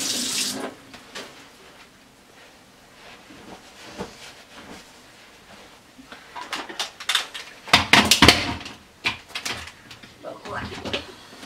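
Tap water running onto hands at a kitchen sink while making stuffed bread: a soft splashing and trickling that swells into louder splashes near the end, with a voice talking over it.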